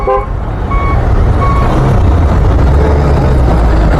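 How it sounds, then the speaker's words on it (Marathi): Cars and trucks on a road on the Mumbai to Khed route move off together in a loud, steady rumble of engines, with brief horn or beep tones near the start. "आणि निघालं ट्रॅफिक"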